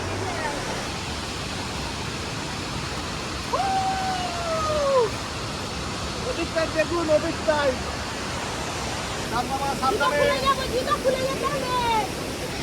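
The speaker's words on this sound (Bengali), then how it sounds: "আমরা একদম ঝর্ণার কাছে চলে যাব, ঝর্ণার ধারেই একদম হোটেল।" Steady rushing wash of a waterfall beside a hotel in the Dooars, constant and moderately loud, with birdsong and a voice speaking over it.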